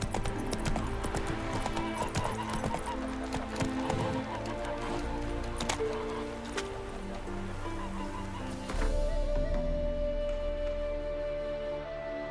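Horse hooves gallop in The Witcher 3, a steady, close clip-clop rhythm with occasional whinnies over game ambience and rain-like background, the pace shifting near the end.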